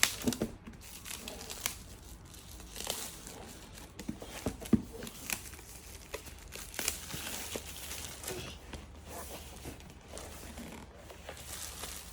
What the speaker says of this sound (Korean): 비닐 벗겨줘.